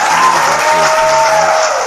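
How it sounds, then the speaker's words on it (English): A short burst of steady applause from a group fills the moment, with a faint tonal hum running underneath. "Maybe a little bit of applause."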